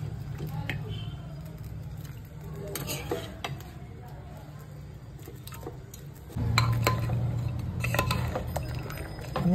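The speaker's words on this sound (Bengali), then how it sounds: "আমি জল আর মাংসটা ভালো করে মিশিয়ে নিচ্ছি।" Mutton and water being stirred together in a pressure cooker, with soft scraping and clinking of a spoon against metal over a steady low hum, quieter at first and then louder and busier toward the end.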